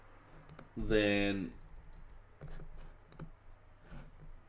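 Keys tapping on a computer keyboard, a few scattered clicks near and fairly soft, with a brief voice cutting in early on and quiet talk around them.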